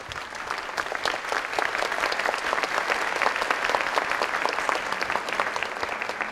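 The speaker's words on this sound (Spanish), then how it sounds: "Ya que recibí aplauso" Steady applause from a church congregation at a Catholic talk by a priest, many hands clapping in a dense, even patter that holds at the same level throughout without pause.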